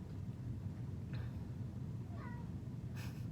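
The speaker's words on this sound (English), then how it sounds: "That's my cat." A house cat gives a couple of short, faint meows, the second a rising chirpy call, over steady low background hum with no talk.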